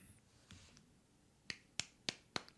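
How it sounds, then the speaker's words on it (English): A single hand snaps its fingers: four or five crisp, sharp snaps ring out one after another with short gaps, close and clear, each one a quick, dry click over a quiet room. "Steve mastered the one-handed clap"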